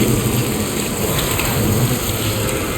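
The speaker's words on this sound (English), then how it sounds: "When it gets rainy like that and it starts picking up" Steady heavy rain pours in the video game Death Stranding 2, a loud, dense, continuous hiss with a low rumble, with no voices.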